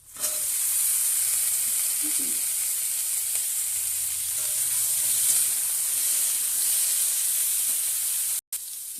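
Kohlrabi and potatoes fry in a pan for a fish curry, giving a steady, loud sizzle that holds almost unbroken to the end, with a brief cut near the close.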